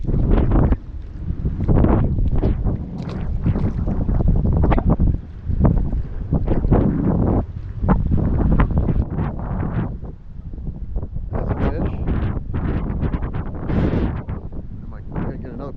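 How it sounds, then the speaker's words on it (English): Wind gusting outdoors on a small fishing boat at Indian Rocks Inlet, a steady loud rumble and buffeting against the microphone throughout, with people talking over it. "we got some wind today"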